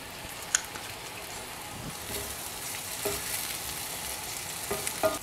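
Shallots and garlic cloves fry in oil for a bitter gourd chutney, giving a soft, constant crackling sizzle with a few scattered spatula stirs over several seconds.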